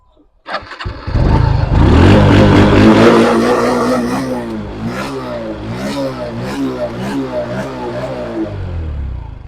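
A carbureted kick-start motorcycle engine fires up and revs loudly, then settles into a rough, pulsing idle with repeated throttle blips, heard close and alone.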